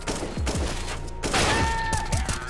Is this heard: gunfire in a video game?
yes